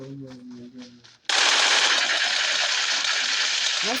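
Sustained automatic gunfire erupts suddenly in a video game after a brief stretch of speech, then roars on loud and continuous, like a rapid, dense burst from a machine gun.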